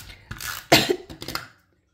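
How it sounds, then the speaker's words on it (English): An ill person coughs in a quick fit of about four harsh, close bursts over a second and a half, then falls silent. "oh, sorry, coughing jag"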